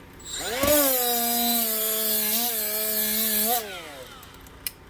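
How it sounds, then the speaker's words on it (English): Milwaukee M12 right angle die grinder spinning up and running at speed while grinding and throwing sparks, a loud close high whine with a rising, then steady, slightly wavering pitch for about three seconds before winding down. "This is exactly what a right angle die grinder is supposed to do."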